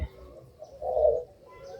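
A white collared dove (tekukur putih) gives a single soft, low coo close by against a quiet background.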